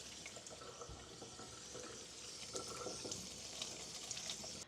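Kitchen tap running steadily while garden cucumbers are rinsed under it, a constant hissing splash with small irregular spatters as the water hits the vegetables and sink.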